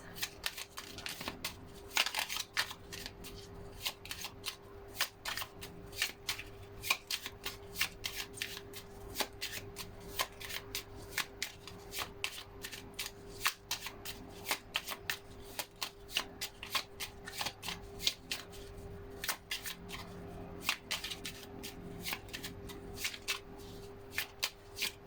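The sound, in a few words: shuffling Chinese Fortune Cookies cards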